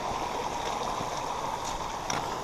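A brook flows at a green, picturesque river crossing on a hiking trail, making a steady close burble and rush with small splashes and trickles and no voices.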